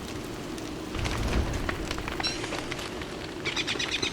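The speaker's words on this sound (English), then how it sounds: "It's still raining, it's just not raining as hard." Steady rain falling in the video game Don't Starve Together, a continuous hiss of moderate loudness with scattered drop patter and faint bird-like chirps, with no one speaking.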